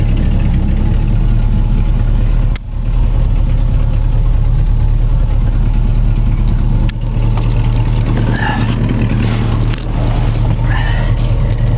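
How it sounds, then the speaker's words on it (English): A 1963 Ford Thunderbird with its original 390 V8 rated at 300 horsepower, running at a loud, steady, close idle with a few brief dips, no voices heard. "So 390 under the hood. It's the original 390. 300 horsepower, fires right up."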